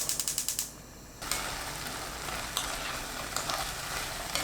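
Boiled kidney beans with minced garlic, soy sauce, mirin and syrup in a pan over high heat: a burst of rapid clicking, a short lull, then a steady sizzling hiss with occasional soft bumps, close and alone.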